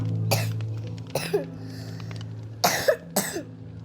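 A man coughing in short bursts, four separate coughs spread across a few seconds, close and fairly clear over a faint background hum.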